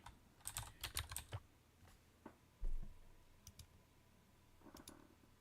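Code typed on a computer keyboard, a quick cluster of close keystrokes followed by scattered single clicks and a heavier key press, quiet with no speech.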